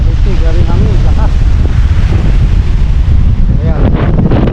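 Strong wind buffets the microphone out at sea on a fishing trip, a loud continuous roar with surf and water noise beneath, while a voice speaks briefly over it.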